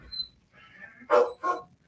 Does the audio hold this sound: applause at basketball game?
no